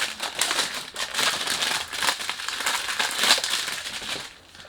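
Cardboard perfume packaging is handled during an unboxing, giving a continuous run of close, crisp crinkling and rustling with small irregular crackles that fade out at the end.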